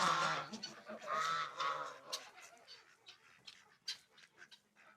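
Loud harmonic honking calls from a turkey, several in a row early on, then quieter scattered rustles and faint calls; no talking.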